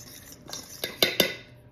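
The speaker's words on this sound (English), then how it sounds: "All right, dry ingredients, let's mix them up." A utensil stirs dry carrot cake ingredients, flour with salt, in a mixing bowl, making a few quiet scrapes and then several sharp clinks against the bowl, close and alone.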